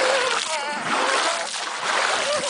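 Water splashes and sloshes continuously at a swimming pool in Miami, a loud, close, broadband wash with no clear pauses and no talking over it.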